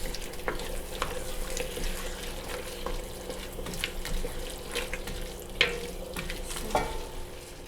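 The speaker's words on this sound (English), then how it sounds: "Stir the mixture consistently until the vegetables are evenly coated in spiced oil" Vegetables stirred with spice mix in hot oil in a pot for a red lentil soup, a soft continuous frying hiss broken by scraping spoon strokes and occasional sharper clinks, close and steady with no talk.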